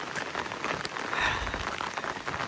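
Rain falls steadily on the Appalachian Trail, a close, even hiss of drops pattering on surfaces with no one speaking.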